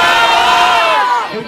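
A large crowd at a political campaign gathering chants a slogan in unison, loud and sustained, the voices massed together and trailing off toward the end.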